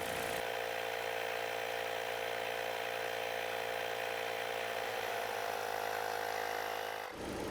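Portable air compressor inflating a car tyre on a Vauxhall Astra, a loud steady mechanical buzzing drone that starts abruptly, runs unbroken for about seven seconds and then cuts off.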